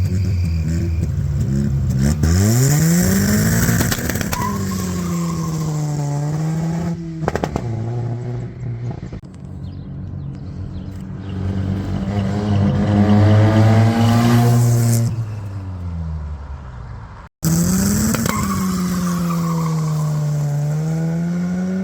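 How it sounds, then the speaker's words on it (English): A junkyard Mazda RX-7 is floored with the clutch dropped: the engine revs up and down in loud rising and falling sweeps while the tires squeal, then cuts off briefly before roaring again. "Floor it to the moon and drop the clutch."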